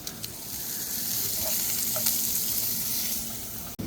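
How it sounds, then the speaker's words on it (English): Cut-up pieces of brisket flat, dried off first, sear in a hot pan with a steady, loud sizzle and frying crackle and a few brief clicks, no voices, at a chili cookoff camp. "So Jim's trying to get a Maillard reaction on these cut up pieces of brisket flat."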